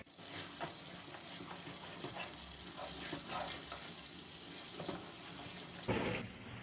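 Beef keema frying with spices in a pan: a steady low sizzle with scraping stirs throughout and a louder scrape near the end.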